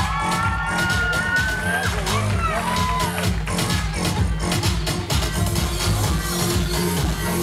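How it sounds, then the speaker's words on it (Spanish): At a quinceañera party the crowd cheers and whoops under loud, thumping DJ music as couples are introduced, with scattered shouts blended into the beat. "Sigo con el aplauso para Melissa and Stevens"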